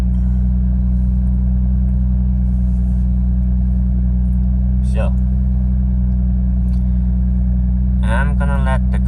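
A car engine idles during a cold warm-up with RPM settling toward 700, a loud steady low hum throughout, with brief bits of speech over it.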